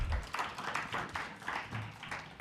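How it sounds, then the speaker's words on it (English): An audience claps its hands together in a steady run of close, fairly soft claps lasting a couple of seconds, with no talking over it. "Can we clap our hands for ourselves for making it this far?"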